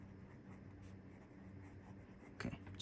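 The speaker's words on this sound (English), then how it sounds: "just writing really quickly" An extra fine nib pen scratches quickly across paper, faint and close, with a slightly louder stroke near the end.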